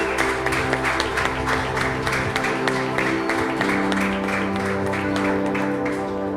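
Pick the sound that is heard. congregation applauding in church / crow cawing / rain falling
congregation applauding in church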